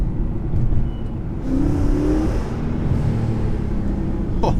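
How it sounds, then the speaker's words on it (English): A 2014 Mercedes C63 6.2L V8 heard from inside the cabin while driving, revving up and easing off in waves with exhaust overrun and a low rumble throughout. "Oh, that overrun does sound good"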